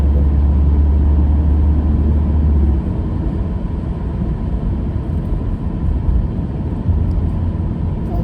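A car drives through heavy traffic toward a market, heard from inside as a steady low engine and road rumble that stays loud and even, with a brief drop in level partway through and no talk.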